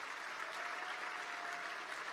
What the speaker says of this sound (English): So let's give them a round of applause for tonight.